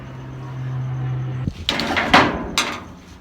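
A workshop door swings and knocks shut, a few hard wooden thuds and rattles after a steady low motor hum cuts off.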